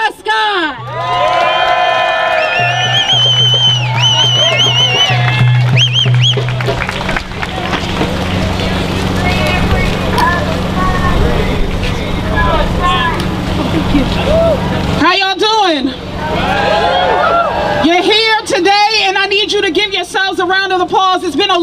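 An audience at a Palestine solidarity gathering applauds and cheers for an introduced speaker, a loud, sustained roar of clapping with whoops and shouts, briefly dipping before swelling again, with voices calling out over it.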